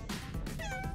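A fat cat gives a single close, drawn-out meow with a wavering pitch that rises and falls, loud against a steady background noise.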